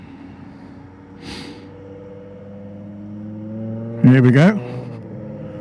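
A Thelmoco Ultra electric 125 scooter pulls away in second gear, its faint motor whine rising smoothly while a rider speaks briefly over it.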